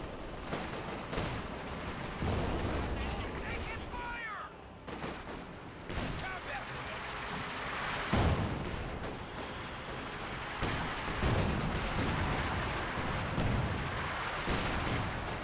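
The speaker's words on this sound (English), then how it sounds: "AT gun firing away, I'm not sure on what though." Booming cannon shots and scattered gunfire from an anti-tank gun in the strategy game Company of Heroes 2, set in a dense wartime soundscape with repeated blasts and a voice talking over the battle.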